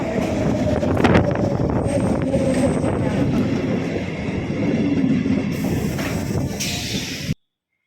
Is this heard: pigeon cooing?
no